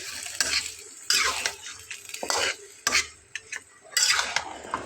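Whole garlic cloves and torn dried red chilies being sautéed in a pan for a homestyle chicken curry with potatoes, giving soft sizzling broken by intermittent scraping stir strokes, close up with no talking.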